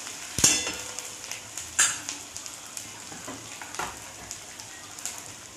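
Whole masoor dal ingredients are sautéed in a pan, with a low sizzle under repeated sharp clinks and scrapes of a spoon against the pan, irregular and close.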